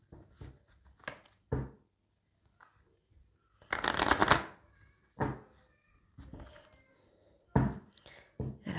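Oracle cards shuffled and drawn by hand, a series of soft riffling bursts and light taps with a louder extended shuffle in the middle, close and quiet with no talking.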